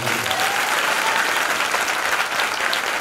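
A church audience at an eleventh annual celebration service breaks into loud, dense applause that stays steady and continuous from start to finish.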